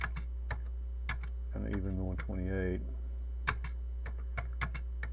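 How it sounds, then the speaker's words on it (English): Cursor keys on a Commodore 16 are tapped in a series of crisp clicks, under talk and a steady low hum. "I'll use these cursor keys"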